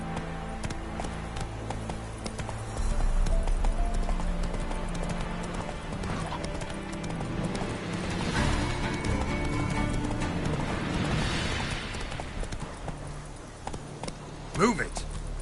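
Hooves of Roach, Geralt's horse in the video game Witcher 3, clop in a quick galloping rhythm beneath game music and ambience, with a brief neigh and someone talking over it.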